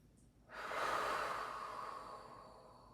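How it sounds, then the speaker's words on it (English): A slow, long exhale through the mouth during a yoga breathing exercise, a soft airy rush that swells quickly and fades gradually, heard alone and close. "Slow exhale through the mouth."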